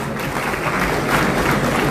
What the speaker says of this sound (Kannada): ವೇದಿಕೆ ಮೇಲೆ ಒಂದು ಚಪ್ಪಾಳೆಯನ್ನ ನೀಡ್ತಾ